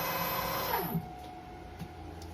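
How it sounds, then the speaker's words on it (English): A mini lathe runs in high gear with a steady mechanical whine and hum that winds down partway through, leaving a quieter background; no talking. "If I switch it back to the high gear, twice the RPM, but not much increase in noise."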